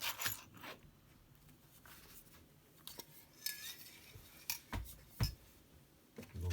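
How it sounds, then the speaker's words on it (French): Interior stickers peeled off a model car body painted Candy Ice Blue, for a Rothmans GT8 project. Close crackling rips and sharp ticks come in short irregular bursts over a quiet background. "on va enlever ensemble les stickers intérieurs"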